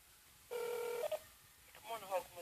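Tones of a phone number being dialed on a smartphone, one long steady tone then brief tone bursts, followed by faint voice-like sounds from the speakerphone.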